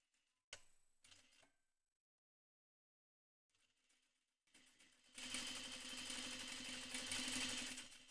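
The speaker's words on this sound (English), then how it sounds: "Sew these 2 layers together." A sewing machine stitches two layers of fabric together for a double welt pocket, a rapid steady mechanical rattle that runs alone for several seconds after a few brief clunks and a quiet pause.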